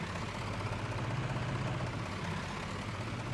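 Tractor engine idling in a farming simulator game, a steady low rumble that stays even and continuous throughout, alone with no voices.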